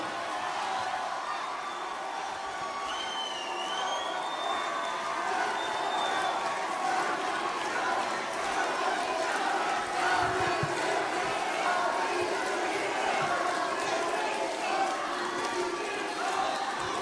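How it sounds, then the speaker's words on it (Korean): A large crowd at a political party rally in Korea applauds and cheers steadily, a dense continuous roar of clapping and shouting with whistles rising above it, fairly distant. "뜨거운 박수로 맞이해 주십시오."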